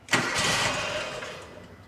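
A Wheel Horse 520 LXI garden tractor's FD620 engine is bumped over briefly to prime the oil pump, a sharp start followed by a short, close, steady whir of cranking that fades slightly.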